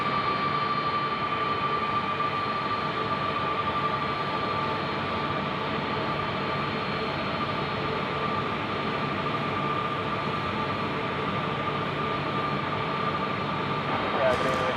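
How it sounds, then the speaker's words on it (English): Jet engines roar at Sydney Airport at night, a steady, loud, piercing drone with a sustained high whine, continuous throughout, no talk. "listen to these engines just piercing the microphone"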